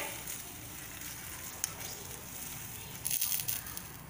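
Mixed vegetables for kootu, already salted, cooking in a pan with a steady, low sizzle and crackle throughout, with a brief louder burst of frying near the end.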